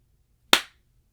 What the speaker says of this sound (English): I'm just going to clap, and what I want you to do is try and clap with me